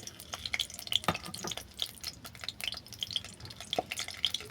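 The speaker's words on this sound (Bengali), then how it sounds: "তেল গরম হয়ে যাওয়ার পর দিয়ে দিলাম ছাড়ানো রসুন" Peeled garlic cloves frying in hot oil, a steady crackling sizzle with scattered pops and faint stirring, close and fairly quiet, no voices.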